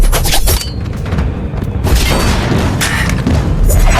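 Explosion in an action scene from a fight between a superpowered girl and a sniper: loud booming blasts with crackling debris and rumbling thuds, dense and continuous, close and powerful throughout.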